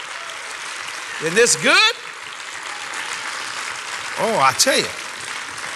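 A church congregation claps in a steady, broad wash of applause while a preacher's voice cuts in twice over it.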